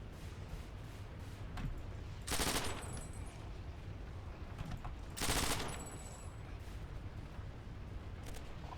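PPSh submachine gun with a large drum magazine firing in the World War II shooter Forgotten Hope during a Berlin battle, two loud sustained bursts standing out over a constant din of distant battlefield noise.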